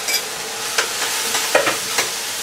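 Vegetables for a meatless goulash sizzle steadily in a hot pan, with a few scraping stirs of a utensil breaking through the constant loud frying hiss.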